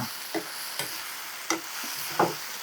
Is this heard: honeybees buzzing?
no